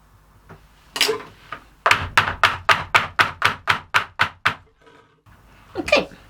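Cold process soap being levelled in its mold: a quick run of about a dozen close, evenly spaced wooden thunks, with a few softer knocks before and after.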